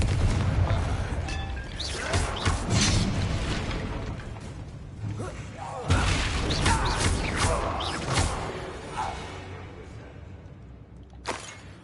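A Confringo blasting spell erupts in the Hogwarts Legacy video game, with repeated loud booming blasts and crackling bursts layered over a dense, rumbling battle din for most of the stretch.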